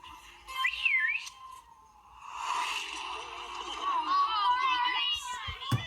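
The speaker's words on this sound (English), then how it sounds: "With a second whistle, the sleigh is back in place" Whistle blown to call a sleigh back in Barney & the Backyard Gang: Waiting for Santa, a short rising-falling trill near the start followed by longer wavering whistle tones amid children's voices and music.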